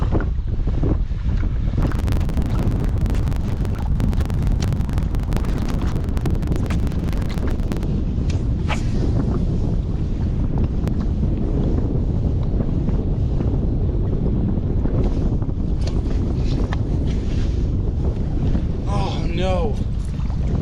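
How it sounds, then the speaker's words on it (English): Strong wind gusting over open water during a kayak fishing tournament, buffeting the microphone with a loud, continuous roar and rumble, with splashing waves and small knocks against the kayak throughout. "That wind's starting to kick up again."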